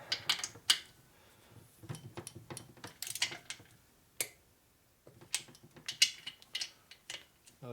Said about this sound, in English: So you go torque,